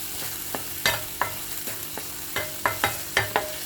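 Mutton keema mixture is stirred in a pan under a light sizzle. A spoon knocks and scrapes against the metal in about a dozen sharp, irregular clacks, close by with no talking.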